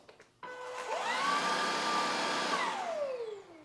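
A Levoit cordless vacuum cleaner switching on, a whine rising quickly to a loud steady motor tone that holds for a couple of seconds, then spins down, falling in pitch.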